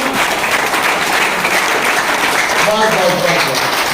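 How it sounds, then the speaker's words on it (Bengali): An indoor audience at a network-marketing seminar breaks into loud, sustained clapping, dense and continuous, with a few voices rising through it near the end. "একবার জোরে হাততালি হয়ে যায় মিলাপের জন্য"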